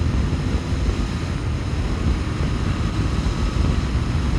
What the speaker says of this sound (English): Clean wind totally in my face.